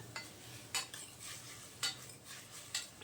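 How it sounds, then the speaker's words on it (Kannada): A spoon scrapes through peas, carrots and beans frying in oil with coriander for a millet bisibelebath, giving three distinct scraping strokes over a faint, quiet sizzle with no talking. "ಕೊತ್ತಂಬರಿ ಹಾಕ್ಕೊಂಡು ಸ್ವಲ್ಪ ಫ್ರೈ ಮಾಡ್ಕೊಳ್ಳೋಣ"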